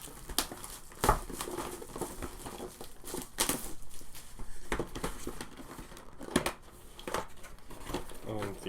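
Plastic wrap on a Star Wars X-Wing toy box is sliced and pulled open, giving scattered crinkles and rustling pops close by over several seconds, partly under talking.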